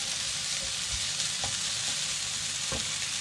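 Onions and peppers fry and sizzle in a pan with golden garlic for a desi shakshuka, a steady loud hiss broken by a few soft stirring knocks, close up with no talk.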